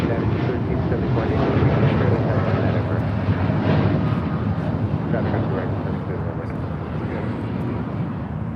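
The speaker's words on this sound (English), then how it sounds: "This is United Airlines 2614 taking off to Newark on a 787-10 Dreamliner" A United Airlines Boeing 787-10 Dreamliner taking off at LAX, a continuous low jet roar with rushing wind-like noise, with radio voices heard over it.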